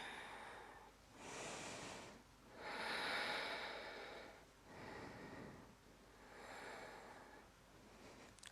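Slow, deep breathing while holding a yoga pose, heard as several long, airy inhales and exhales in a steady rhythm, close and soft with no talking.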